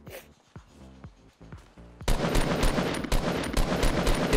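Rapid pistol fire in the video game Fortnite, a dense burst of repeated loud shots starting partway in and continuing to the end, preceded by a few quieter scattered pops.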